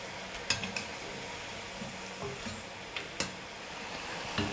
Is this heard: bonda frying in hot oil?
yes